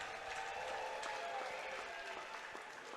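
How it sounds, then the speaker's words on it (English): A home crowd at a college ice hockey game applauds during pregame player introductions. The clapping is distant and moderately quiet in a large arena, steady and without voices for three seconds. "a nice round of applause here from the home crowd"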